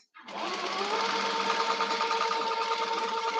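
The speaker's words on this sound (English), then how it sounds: "Then I'm going to stitch round just to secure it." Sewing machine stitching around a cap's cover lining, a steady close rattling hum that starts abruptly and runs evenly without pause.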